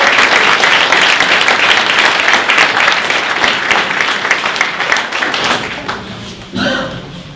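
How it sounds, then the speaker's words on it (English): Loud, dense applause from an audience at a school maritime centre's annual awards ceremony, sustained for several seconds before thinning out and tapering near the end. "I think they deserve a round of applause."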